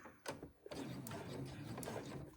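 A sewing machine stitches down one long side of a fabric cell phone strap, a steady close mechanical whir running for about two seconds after a brief start.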